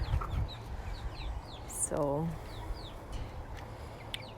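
Turkeys near a chicken feeder on a small farm give a short run of clucks and calls, with one clear harmonic call in the middle, against outdoor ambience and other birds chirping.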